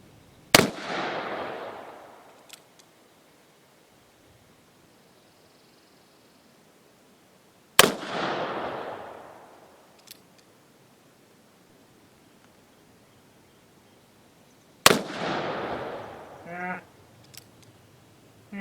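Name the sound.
Colt 1860 Army revolver firing Johnson & Dow bullets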